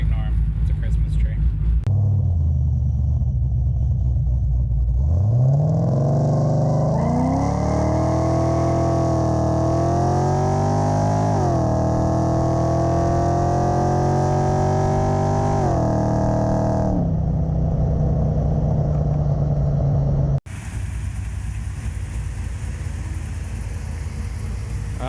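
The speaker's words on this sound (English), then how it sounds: "This grinding noise while I'm driving is super embarrassing" An LS1 third-generation Camaro rumbles as its engine revs up and holds, and the pitch shifts with speed before it settles back to idle. A low grinding runs under the engine sound, and a person talks at times.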